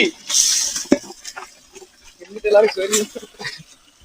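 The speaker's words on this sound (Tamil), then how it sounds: "நல்லா கலக்கடா. கலக்கிட்டு தானே இருக்கேன் இங்க." Chicken curry stirred in a cooking pot: a spoon scrapes and clinks against the metal with a soft sizzle, heard close, in short irregular strokes mixed with people talking.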